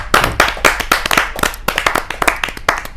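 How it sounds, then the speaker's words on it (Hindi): Loud, dense applause from an audience at a Hindi poetry gathering, sustained clapping throughout with no voices. "जोरदार तालियों के साथ हम स्वागत करें"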